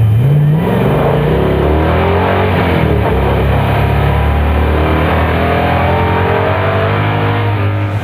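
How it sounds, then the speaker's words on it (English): A rally car's engine accelerates hard on a closed shakedown stage at Targa Newfoundland, a loud, continuous, near drone that rises in pitch as it pulls through the gears, with no voices. "The car is very fast"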